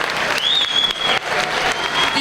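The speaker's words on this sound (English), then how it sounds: "Another big round of applause" A big crowd applauds at the 50th-year commemoration of the Delano grape strike, a loud continuous roar of clapping with a whistle cutting through and voices mixed in.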